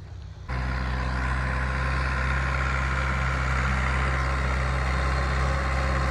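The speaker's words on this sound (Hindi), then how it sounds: "ये ट्रैक्टर आती हुई" Old Fiat 640 tractor in a maize field, its engine idling and running steadily after a short quieter start, a deep loud continuous rumble with no talk over it.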